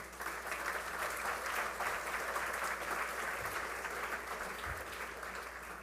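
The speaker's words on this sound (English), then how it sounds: "While you're still clapping or ready to clap" Sustained applause from a dinner audience at a community colleges awards celebration, steady, dense clapping filling the room for the whole stretch without letting up.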